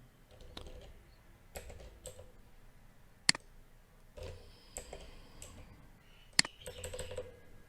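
Keys tap on a computer keyboard as a card number is entered, quiet irregular bursts of clicks spread across several seconds, with a couple of sharper louder keystrokes standing out.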